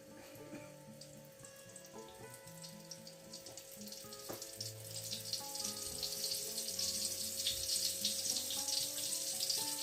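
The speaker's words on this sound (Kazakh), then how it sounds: "котлеттерімізді сала береміз сковородкаға" Pike cutlets sizzling in a frying pan with a little oil, a close crackling fry that grows louder and busier over several seconds, without voices.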